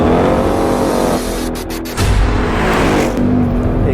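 Ford Mustang V8 with sport exhaust launching hard in a drag run, loud close engine roar climbing through revs with a brief shift dip around two seconds before pulling again.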